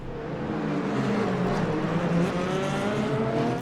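Race car engines in the Le Mans Ultimate racing game roar continuously, with layered engine notes from nearby cars as they are passed, loud and sustained with no talk.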